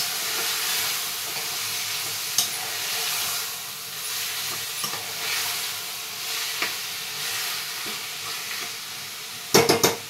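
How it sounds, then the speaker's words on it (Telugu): Mutton pieces are mixed into sizzling onions in a pan, giving a steady frying hiss with occasional light spoon taps and a burst of clattering scrapes at the end. "వేసుకొని బాగా కలపాలి."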